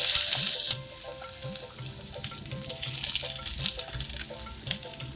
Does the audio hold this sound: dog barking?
no